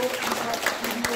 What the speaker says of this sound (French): je vous donne un petit applaudissement